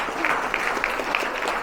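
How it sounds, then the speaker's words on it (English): Audience applause at a talk on AI and LinkedIn, a close, steady crowd of clapping hands with brisk individual claps standing out, loud and continuous. "Let's give another round of applause"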